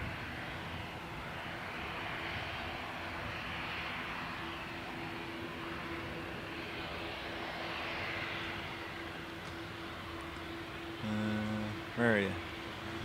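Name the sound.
Garda police fixed-wing aircraft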